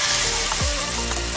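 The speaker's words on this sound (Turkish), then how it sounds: "Şimdi de kızartma zamanı." Food dipped in egg and then flour fries in hot oil with a steady, dense sizzle and crackle, loud and continuous throughout with no voices.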